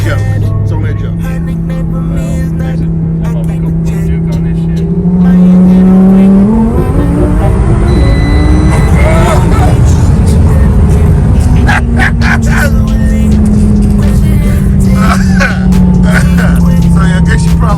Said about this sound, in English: we're going to take a ride in and just kind of see how this thing runs